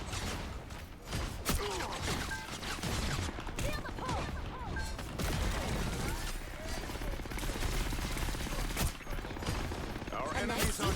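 Rapid, dense video game gunfire rattles almost continuously in bursts and volleys, loud and close, with a voice talking over it.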